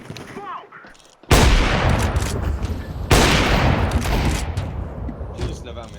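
Dense bursts of gunfire and explosive blasts fill a team shooter video game match, with two loud onsets followed by sustained rattling fire, while players talk over it.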